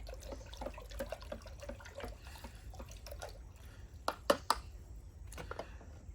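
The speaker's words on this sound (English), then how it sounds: "we need to stir it so that it mix well in the solution" Hydroponic nutrient solution being stirred in water, with soft sloshing and a few sharper drips and clinks near the end, moderately faint and close.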